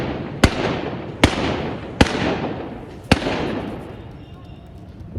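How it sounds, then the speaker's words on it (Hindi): Four sharp gunshots crack out during continuous firing in Peshawar, spaced under a second apart, each leaving a long, echoing tail that fades into quieter background noise. "लगातार गोली चलने की आवाज आप सुन पा रहे हो।"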